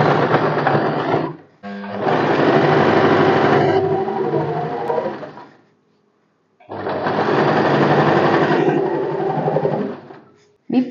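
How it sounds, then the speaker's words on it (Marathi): Sewing machine stitching piping onto a blouse, a loud close whirring run of rapid stitches, a brief pause, then a second long run before it stops. "तर चला मी स्टिच करून दाखवते."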